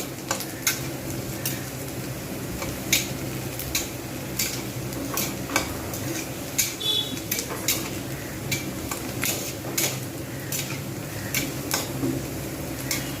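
Onions fry in a pan with a constant close sizzle, while a utensil taps and scrapes at a fairly regular beat.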